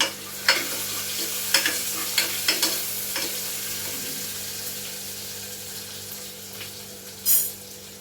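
Curry leaves and dried red chillies tempering in hot oil in a pan, a quiet sizzle and crackle with a few sharp pops and spatters, plus a brief louder burst near the end.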